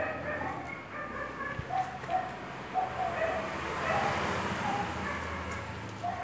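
36-day-old Siberian husky puppies whimper and yip while nursing, in short, high squeaks scattered over a steady low background, fairly close, with no talking.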